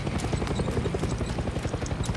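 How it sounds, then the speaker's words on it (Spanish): Patrolling helicopter in the video game Far Cry 6, a steady rapid rotor chop thudding low and continuous at moderate distance, heard alone. "Es un helicóptero que está patrullando en la zona"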